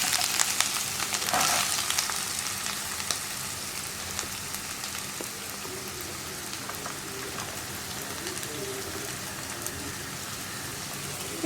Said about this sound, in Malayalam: സവോള ഇതിലേക്ക് ആഡ് ചെയ്യാം.